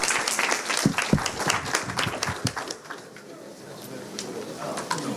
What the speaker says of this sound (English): Big applause and.